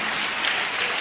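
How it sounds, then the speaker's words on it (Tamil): A crowd claps at a night prayer meeting, dense and loud continuous applause filling the whole moment with no voices over it. "கைத்தட்டிங்க பார்க்கலாம்"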